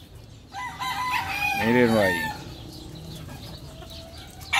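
A fighting rooster gives one full crow, with brief clucks around it, close and loud, while someone speaks briefly nearby.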